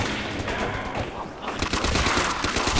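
Rapid bursts of gunshots crackle in Call of Duty: World at War Zombies, with a brief lull before the firing picks up again, loud and close.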